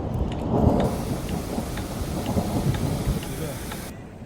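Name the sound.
thunder and heavy rain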